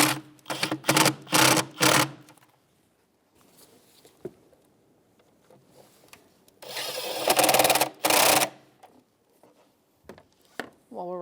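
Ratcheting bursts from a 10mm socket wrench tightening bolts on a 1999-2004 Jeep Grand Cherokee during ignition coil replacement, with several short clicking runs near the start and a longer one toward the end, close and fairly loud.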